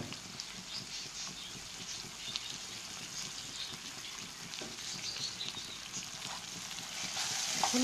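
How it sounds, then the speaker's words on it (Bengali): Mutton frying with onions in a pan, a continuous crackling sizzle with stirring scrapes, fairly close and moderately loud, with no talk. "এখন আমি এর মধ্যে মাংস দিয়ে দেব"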